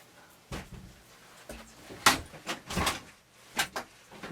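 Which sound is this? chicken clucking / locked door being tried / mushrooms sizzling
locked door being tried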